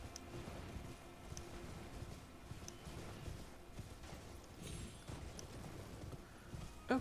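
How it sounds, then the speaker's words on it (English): Soft, rhythmic hoofbeats of a horse moving at pace, fairly faint and distant, with a sharper thump near the end, in the video game Elden Ring. "Thought I heard another horse behind me."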